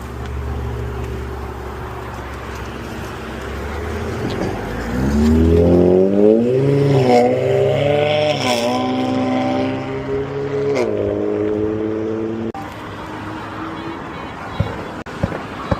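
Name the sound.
tuned Infiniti car engine revving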